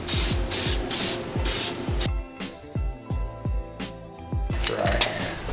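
Rapid aerosol spray bursts hiss onto LS1 engine parts for an even clear coat, coming as several short sharp puffs and longer steady sprays, loud and close, with a rhythmic mechanical clicking underneath.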